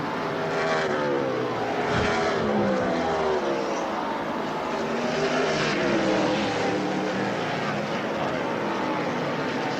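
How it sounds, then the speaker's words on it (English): NASCAR stock cars race at Darlington Raceway in the Southern 500, a steady loud roar of many engines passing, with swelling and fading tones over a continuous wash of crowd and track noise. "75 cars running."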